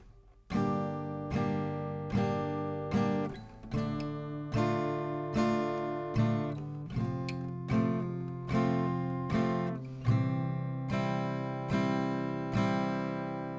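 Acoustic guitar chords struck with single downstrokes at an even pace, each ringing out before the next, played close and alone.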